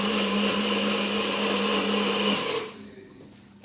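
A kitchen blender whirs loudly as it purees flapjack ingredients of bananas and raisins, a steady close motor whine that winds down and fades out near the end.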